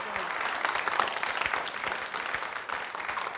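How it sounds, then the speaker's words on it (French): Studio audience applause at a French TV quiz show, clapping for the losing contestants, a brisk even patter of many hands at moderate distance that continues steadily with slight dips. "applaudissements"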